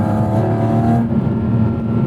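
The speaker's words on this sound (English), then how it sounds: "Porsche Sport exhaust enabled" A Porsche 718 Cayman GT4 RS engine revs loudly and continuously up close with sport exhaust enabled, a deep throaty exhaust roar that shifts tone partway through.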